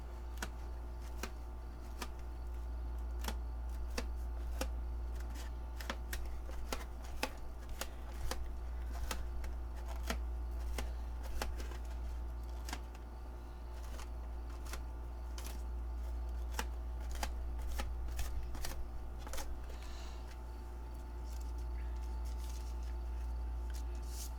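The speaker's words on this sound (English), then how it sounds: "I'll crinkle up another one." Painted paper is crinkled up by hand, giving a steady stream of faint, dry crackles and rustles over a constant low hum.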